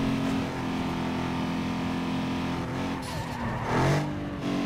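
Racing cars in Need for Speed: Underground 2 roar through a circuit race, engines droning steadily close by with tires squealing and skidding through corners, the whine rising and sliding near the end.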